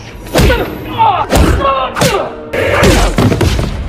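Heavy punches land on a man tied to a chair, three or four loud, close thuds spaced about half a second to a second apart, with grunts and movement sounds between blows.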